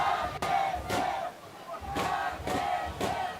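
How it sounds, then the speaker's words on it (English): Spectators in the stands at a Bhutan Premier League football match between Thimphu City FC and RTC FC cheer in rhythmic, pulsing bursts, a steady chanting roar with regular beats. "cheering from the stand."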